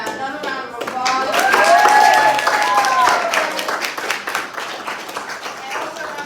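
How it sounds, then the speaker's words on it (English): Applause from a conference audience at an Afro-futurism summit, a dense patter of clapping hands that swells in the middle and keeps going, with cheering or voices mixed in. "Another round of applause."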